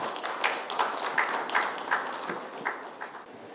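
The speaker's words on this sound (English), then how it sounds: "Can we have a huge round of applause for Mr." An audience applauds a speaker at an industry gathering, with steady, moderately loud clapping throughout and a few brighter, sharper claps standing out.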